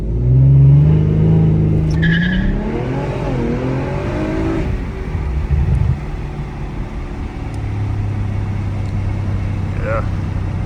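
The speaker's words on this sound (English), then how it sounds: "Launch control here." An Audi RS5 with over 500 horsepower launching hard under launch control, its engine loud and close, rising through a revving surge, then dropping into a steady roar as it drives away through a forest.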